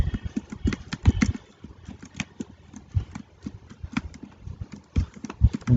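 Donkey hooves clip-clop in a flash game, a quick, uneven patter of hard hoof taps that keeps going under busy game noise.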